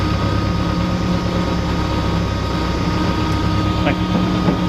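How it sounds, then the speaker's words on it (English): A Ford Festiva fitted with an EcoBoost engine idling with a steady low rumble and pulsing throb as the revs sink slowly after the throttle is let go, heard close and continuous. "Really slow throttle come down."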